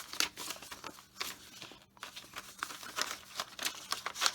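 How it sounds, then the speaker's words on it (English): A small piece of ledger paper is handled, giving crisp crinkling and rustling in irregular bursts close by, with brief quiet gaps and no voices. "This is just a little piece of ledger paper."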